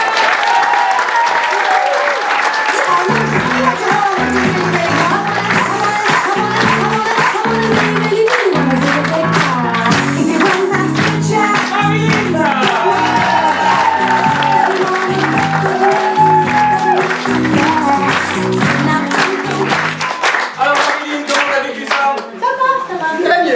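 An audience applauds a woman named Marie with loud, sustained clapping that fills the whole stretch and stays dense and close. Some voices mix in with it before it thins slightly at the end.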